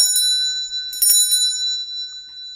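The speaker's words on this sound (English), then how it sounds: "I'm gonna ring the bell." A bell is struck twice, a bright ringing tone whose overtones sustain and slowly fade after each strike.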